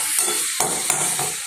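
Curry leaves frying in coconut oil, a loud crackling sizzle with several sharp spatters and stirring clatters across the short stretch, close and without voices.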